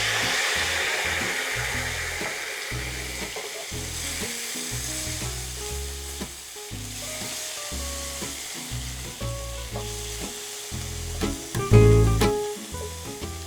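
Food sizzles steadily in a very hot frying pan, a continuous broadband hiss with soft stirring knocks and clatter, close and moderately loud, with no talk.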